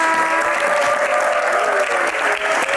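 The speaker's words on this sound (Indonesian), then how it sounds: "Tepuk tangan buat Mas Arman" A studio audience of university students at an Indonesian talk show applauds loudly and continuously, a thick, even wash of clapping with a faint tonal sound underneath.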